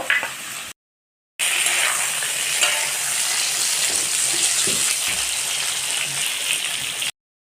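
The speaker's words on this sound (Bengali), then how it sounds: "পটলগুলো আমি তো একটু ভেজে নেব মশলাটা ভেজে নিয়েছিলাম" Spice mix frying in a pan while being stirred, a steady broadband sizzle with occasional scraping, close and loud, broken by a short gap of silence near the start, for a vegetarian pointed gourd dish.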